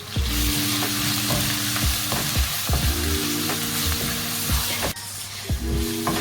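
Garlic and onions with paprika and salt sizzle steadily in a pan, with a spatula stirring and scraping in a repeated rhythm, close and alone without voices.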